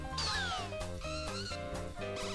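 Cats meow repeatedly in the video game Katamari Damacy Reroll, with bright gliding calls over a busy, rhythmic music track.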